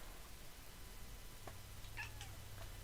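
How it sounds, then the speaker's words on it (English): A house cat gives a faint, brief meow or two, distant and quiet against a low steady background hum, with no talking. "I must move a kitty to get access to my other stack."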